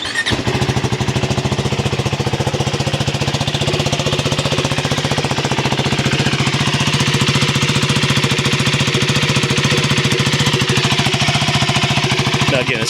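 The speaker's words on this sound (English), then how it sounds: "So we're going to give it a start up and see how it sounds." A 2025 KTM 390 Enduro R fitted with a Coober decat pipe runs steadily after start-up, its loud, even single-cylinder putter filling the whole stretch close to the microphone with a slightly rattly edge.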